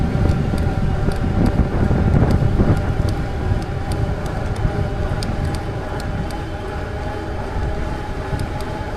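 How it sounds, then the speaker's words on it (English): Steady, loud wind roar buffets the microphone while riding an e-mountain bike at speed into a headwind on pedal-assist level 5, a dense broadband rush with no speech. "I'm going against the headwind here."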